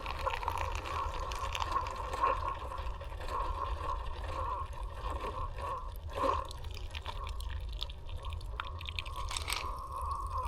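Iced coffee from a Keurig brewer trickles steadily into a cup of ice, a continuous thin liquid stream with faint dripping and no talk.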